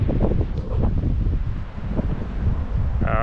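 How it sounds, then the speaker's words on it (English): Gusty wind in Doha, Qatar buffeting the microphone, rumbling low and uneven in loud bursts that rise and fall throughout. "But today is windy."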